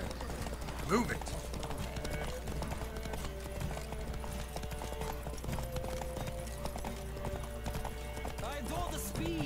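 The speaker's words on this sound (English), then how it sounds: "Don't spare the horse!" A horse gallops with rapid clip-clop hoofbeats during a saddled horse race in the video game The Witcher 3, with a brief whinny near the start and a low, steady game background beneath.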